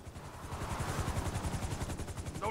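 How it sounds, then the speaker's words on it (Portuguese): A military helicopter in GTA V, its rotor thudding in a steady fast pulse close by for the whole stretch, loud and continuous, with a brief tonal game sound at the very end. "O helicóptero militar tá ali ainda."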